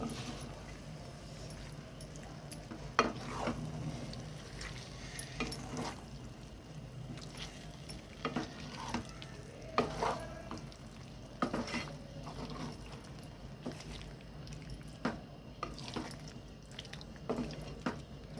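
Fish pieces being stirred through masala in a pot, with soft squelching and scraping stirs repeating irregularly, close and fairly quiet, no talk.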